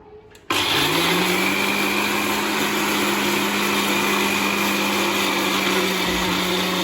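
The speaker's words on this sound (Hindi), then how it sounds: "चावलों को पहले ग्राइंड कर लेते हैं।" An electric grinder whirs through soaked rice for rice pancakes, switching on after half a second and holding a loud, steady motor whine to the end, with no talking.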